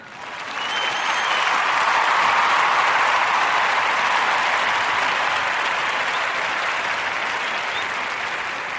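A podcast plays a round-of-applause effect: dense clapping from a crowd that swells in within the first second, holds steady and loud, then eases slightly toward the end.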